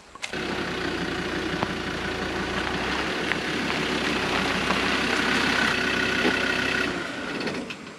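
Idling diesel engine of a 2000 Land Rover Discovery TD5 4WD while reversing, a steady close rumble with a constant hum running through it, holding unchanged for about seven seconds before dropping away.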